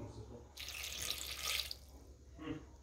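Water pours into a cooker bowl in two short splashing bursts, a longer one and a brief one, close and fairly quiet, 400 g measured on a scale for a compact cook platinum.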